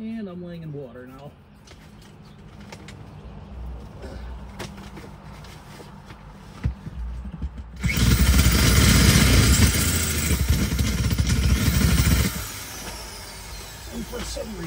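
A power drill whirs loudly for several seconds after a stretch of quieter handling noise, with a voice speaking briefly near the start.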